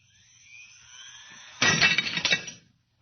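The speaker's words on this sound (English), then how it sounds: "The glass was shattered." A drinking glass perched on the edge of a table shatters after a rising electronic hum, a sudden burst of breaking glass with tinkling fragments that fades out after about a second, with no talk over it.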